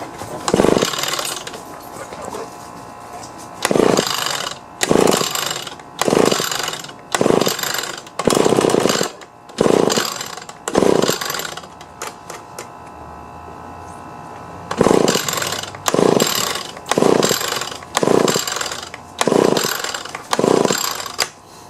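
Two-stroke Echo leaf blower with the choke on, cranked by pull cord: about a dozen sharp, rhythmic pull-start bursts in two runs separated by a short pause, close up, with the engine never catching.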